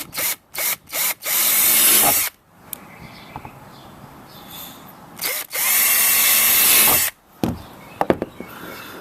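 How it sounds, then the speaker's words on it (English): A power drill fitted with a 3/16 inch bit drills out rivets on a kayak in several loud, close bursts, a few short ones and then two long sustained runs, with quieter gaps between them. "you're going to need a drill with a 3/16 inch bit"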